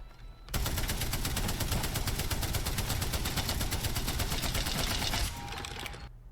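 A Spitfire's machine guns firing in a video game, one long, rapid, steady burst lasting about five seconds, loud and close, with no talking.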